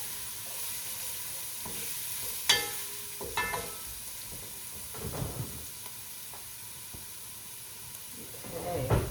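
Corned beef, cabbage and potato soup sautés in a deep pot, giving a continuous sizzle and hiss with occasional louder stirring scrapes and clinks.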